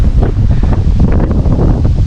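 Strong wind at a hilltop campsite in Kaeng Krachan, Thailand, buffets the microphone with loud, gusty rumbling that surges and dips unevenly throughout.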